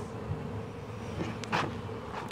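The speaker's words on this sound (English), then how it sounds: "And there are so many bees coming in." Honeybees buzz around an open hive during an inspection, a steady, soft droning hum with no talk.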